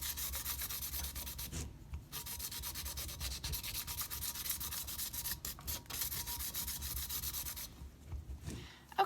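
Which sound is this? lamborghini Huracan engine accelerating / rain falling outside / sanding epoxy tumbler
sanding epoxy tumbler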